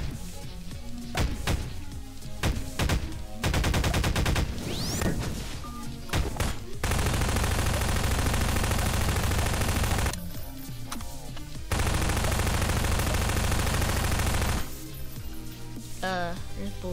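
Gunfire in a shooter video game with Ant-Man as a character, bursts of rapid automatic shots and heavy sustained volleys alternating with short pauses, loud and close, with a player talking at times.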